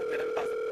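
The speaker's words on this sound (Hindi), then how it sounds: "आपका फोन आ रहा है।" A phone rings with a steady electronic ringtone, one short, even tone held at moderate volume with no voices over it.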